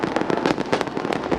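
New Year's Eve fireworks over Indonesian city celebrations such as Monas and Bundaran HI in Jakarta, with rapid overlapping loud bursts and crackles in a dense, continuous barrage with no voices.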